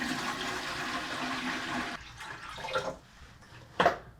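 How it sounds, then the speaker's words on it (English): Water poured from a jug into the tank of a Levoit Classic 300S humidifier, a steady splashing rush for about two seconds, then quieter trickles and a short final splash, close and alone. "let's fill it up with some water"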